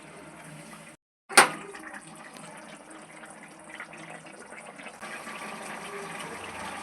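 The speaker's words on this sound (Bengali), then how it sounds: "এক বাটি জল দিয়ে দিচ্ছি।" A bowl of water pours into a cooking pot of homemade paneer posto, a steady rushing splash that stops briefly, then resumes after a sharp knock and continues as a broad, moderately loud gush.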